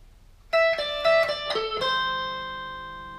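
Guitar playing an intro riff, a short run of picked single notes high on the neck, the last note left ringing and slowly fading, close and moderately quiet with no talking.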